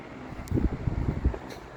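A Capri PC-14 14-inch box fan runs on its low speed setting with a stiff motor, giving a soft, steady low whir and faint airflow rumble that pulses gently throughout.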